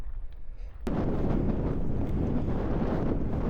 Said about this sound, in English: My usual headwind,